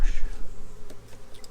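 A close, steady buzzing of many honey bees fills the short clip, droning without pause.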